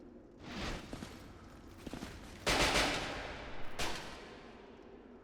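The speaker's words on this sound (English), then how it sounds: "Heavy machine gun!" A heavy machine gun in a video game fires in loud rapid bursts, with a dense roaring volley in the middle followed by another short burst, close and with no voices.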